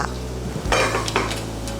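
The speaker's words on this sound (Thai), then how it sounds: "แล้วก็เอากุ้งลงย่างค่ะ" Shrimp laid onto a hot grill to cook, a brief clatter of metal and handling followed by a soft, steady sizzle close by, with no voices.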